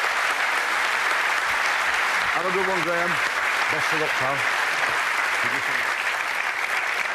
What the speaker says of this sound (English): Nice applause there.